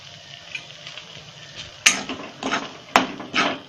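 Flour being roasted in a pan for methi ladoo, with quiet stirring and scraping of a spatula against the pan and a few sharper metallic clinks, soft and close with no talking.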